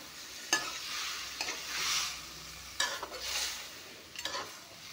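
A spoon stirs kohlrabi and fish curry frying in a pan in four distinct bursts of scraping and sizzle over a soft background hiss, close and fairly quiet.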